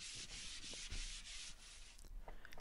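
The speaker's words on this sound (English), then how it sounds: "And then finally I gave it all a hand sanding" Sandpaper is rubbed by hand across a reclaimed wooden scaffold board in quick back-and-forth strokes, a close, dry scratching that turns shorter and more scattered near the end.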